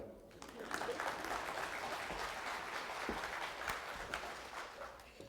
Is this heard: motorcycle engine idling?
no